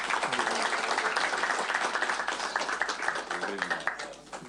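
An audience at a Srimad Bhagavatam class in an ISKCON temple claps for a few seconds. The clapping is moderate and somewhat uneven, voices mix in, and it thins out toward the end.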